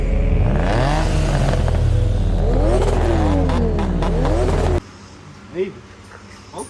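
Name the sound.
Nissan 350Z revving with new HKS and Megan Racing exhaust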